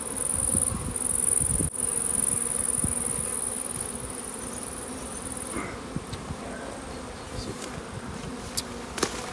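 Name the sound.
honeybees buzzing at an open beehive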